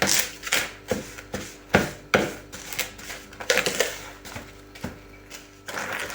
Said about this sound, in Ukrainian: Розминаємо так, щоб дріжджі з цукром було однорідної маси.